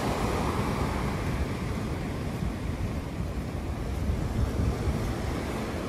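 Surf washes onto the beach at Playa Chica in Puerto de la Cruz, Tenerife, a steady broadband roar with constant wind buffeting the microphone and no distinct breaks for six seconds.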